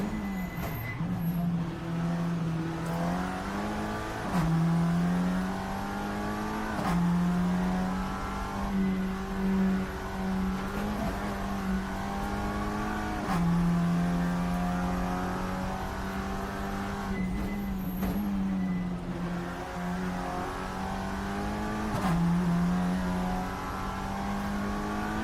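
TCR touring car engines racing in the video game Assetto Corsa, a loud, steady engine drone climbing through the revs with regular sharp gearshift drops every few seconds, continuous and close, with no talk.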